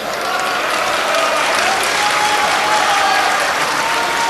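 A large political rally crowd in Pakistan, roaring steadily and loudly throughout with a dense, unbroken wash of cheering and shouting and no single voice standing out.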